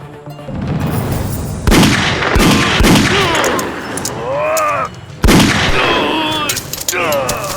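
Gunshots ring out in a Hindi-dubbed action movie: loud, close booming blasts strike twice amid ongoing rumbling gunfire and scuffling noise, with no clear speech.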